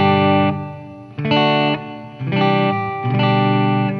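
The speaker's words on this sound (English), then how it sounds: "just straight up clean, I'm just gonna add a touch of reverb here on the TC Electronics." A Paul Reed Smith Custom 24 electric guitar plays clean with its neck pickup in single-coil mode and light reverb from a TC Electronic unit, giving four sustained chords that ring out one after another, close and clear.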